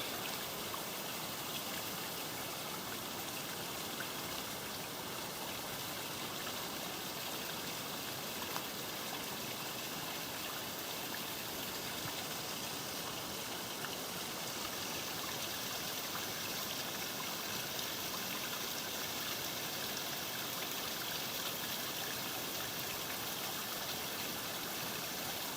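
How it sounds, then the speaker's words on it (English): A small stream trickles over moss-covered rocks near Mooney Mooney ponds in Brisbane Water National Park, a continuous close babble and splash that stays steady and unbroken for nearly half a minute, with no voices. "Who does not love the sound of trickling water?"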